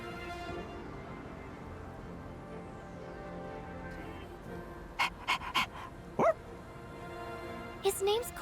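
The dog character in the video game Persona 3 Reload gives several short, sharp barks in two quick bursts near the end, over steady background game music.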